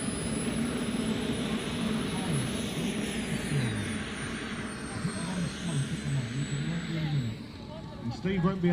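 Scale model warbirds such as a Corsair, Spitfire and Zero fly at an outdoor model air show, their engines droning and shifting pitch at a distance while a voice talks over them throughout.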